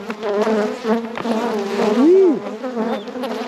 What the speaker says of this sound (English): Glad to see these bees still nasty.